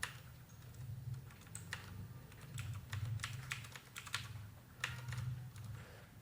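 Fingers type on a computer keyboard to enter a record into an Excel spreadsheet, producing quiet, irregular key clicks in short runs with no talking.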